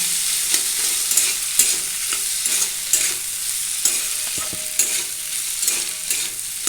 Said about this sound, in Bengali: এটাকে এবার ভালো করে আমি নাড়িয়ে নিলাম